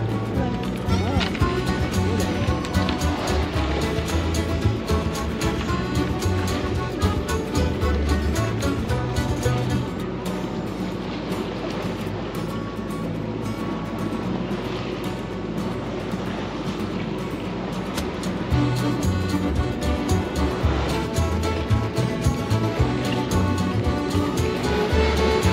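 A boat motors at 1600 rpm, making about two and a half knots against swell and current; a steady, fairly loud engine drone with broadband water and wind wash runs continuously throughout.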